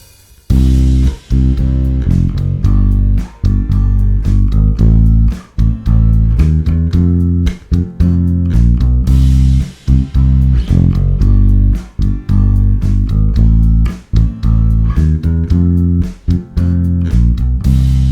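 A bass guitar plays a walking bass line over a full backing track, with deep, steady stepping notes under a loud, continuous band groove and no talking.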